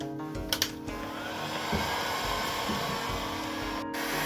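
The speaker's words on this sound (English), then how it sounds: "All right, I now have the heat gun." A heat gun blows hot air during a sailboat electrical refit, giving a loud steady close whoosh with a few small clicks at the start and a brief dip near the end.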